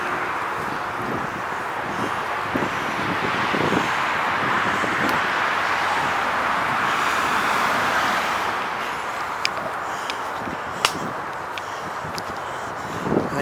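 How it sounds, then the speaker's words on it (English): Traffic rumbles as a soft, continuous wash from a road about 20 yards off near the Aberkenfig bypass, heard from a footpath with wind and a few faint ticks over it. "Probably hear the traffic in the distance, about 20 yards away."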